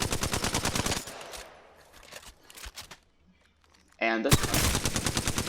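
An Alternator submachine gun without a stock fires in Apex Legends: a loud rapid automatic burst opens, then a quieter gap with a brief spoken remark, then another sharp sustained burst at the end.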